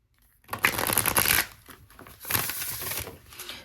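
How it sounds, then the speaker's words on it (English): An oracle card deck being shuffled by hand, with two bursts of rapid papery riffling and crisp flicking, close and fairly loud, separated by a brief softer pause. "You might want to turn it down because I'm going to shuffle."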